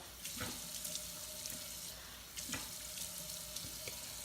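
Warm tap water running into a bathroom sink for face washing, a steady quiet splashing stream with occasional louder splashes as hands dip in, close and alone without talk.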